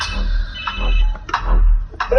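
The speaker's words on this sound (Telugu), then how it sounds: "ఫోన్ వస్తుంది చూడు" A phone rings with repeated tonal chimes over a low background hum, the rings fairly loud and close.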